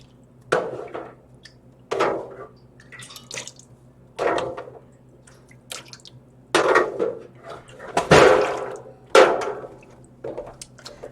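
Water is poured and splashed into a dye pot in bursts, with intermittent pours, drips and clinks of metal and dishes between quiet gaps, close and fairly loud.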